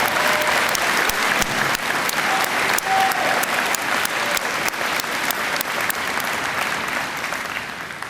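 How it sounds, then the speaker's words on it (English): Graduation ceremony audience at a technical college applauding graduates, loud dense clapping sustained throughout with sharp individual claps standing out, easing slightly near the end. "and they deserve a round of applause."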